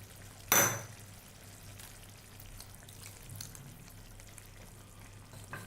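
Water splashes into a pan of cauliflower kurma with ground masala paste in one short, sharp pour, then a low, steady simmering sizzle bubbles on quietly.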